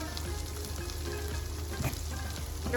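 Onions fry in a pan for a carrot stir fry, giving a quiet, continuous sizzle with soft crackles, heard alone.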